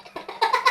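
A cat in the Minecraft video game gives a short series of three or four quick, close meows in rapid succession, each rising slightly louder.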